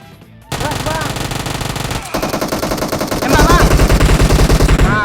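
Rapid automatic gunfire in the PUBG Mobile battle royale game rattles loud and close in sustained bursts, growing heavier toward the end, with players talking over the shooting.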